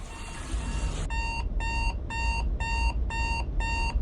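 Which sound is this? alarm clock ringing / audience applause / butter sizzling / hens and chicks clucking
alarm clock ringing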